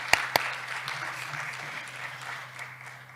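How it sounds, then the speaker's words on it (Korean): Audience applause at a Korean health and medical forum lecture, a steady patter of many hands clapping at moderate distance, with two sharp louder claps near the start, continuing without talk for about three seconds. "다시 한번 박수 보내드릴까요?"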